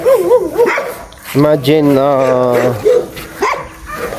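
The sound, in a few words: dogs barking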